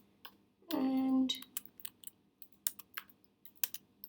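Text is typed on a computer keyboard in a series of irregular, close key clicks following a brief electronic tone near the start.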